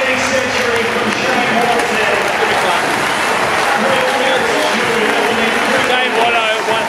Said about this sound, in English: You got to applaud that man.